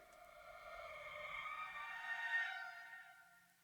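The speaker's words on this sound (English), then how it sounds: "an FX vocal track that is made by bouncing just a totally wet reverb tail and reversing it" A reversed, fully wet reverb tail from a sung vocal, used as an effect, swells gradually from near silence into a breathy, tonal wash, peaks, then fades quickly, with no dry voice audible.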